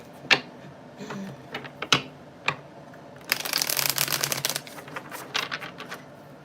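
Tarot cards are shuffled up close: a few sharp taps and clacks of the deck, then a dense, crisp riffle lasting about a second, followed by scattered lighter card flicks, with no voice.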